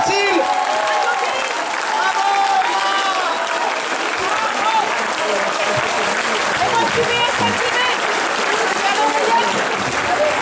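A crowd at a street demonstration against extending the health pass in Besançon applauds continuously, loud and close, with voices calling out and cheering throughout.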